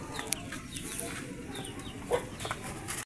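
Chicks and chickens cluck and peep while waiting for feed, with several overlapping high chirps and short clucks at close range, steady and unbroken over a low background.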